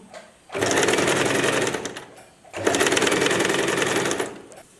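A Usha electric sewing machine stitches fabric in two steady runs of rapid, buzzing needle clatter, each lasting about two seconds, separated by a brief pause, close and loud.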